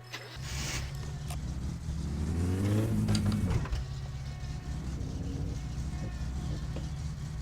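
Satsuma car engine in My Summer Car revving hard, rising in pitch then settling into a steady, loud drone with a fuzzy, boat-like timbre.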